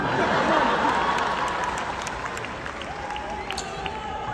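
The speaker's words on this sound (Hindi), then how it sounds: "जो लोग टिकट लेके आए हैं उनके लिए जोरदार तालियां" Crowd applause at a live Kapil Sharma comedy show in the USA, loud at first and gradually thinning, with scattered voices and a few whoops mixed in.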